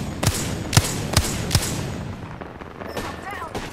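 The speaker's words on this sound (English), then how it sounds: "I am taking fire, friends" Gunfire in an intense mid-match video game: four sharp, loud shots in a steady rhythm, followed by fainter scattered pops and electronic chirps.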